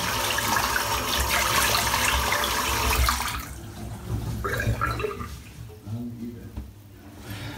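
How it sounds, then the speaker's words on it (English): Running tap water rinses a boar-bristle shaving brush, a loud close splashing flow for about three seconds, then softer intermittent dribbles and swishes as the brush is worked under the water. "I'll rinse this brush out again."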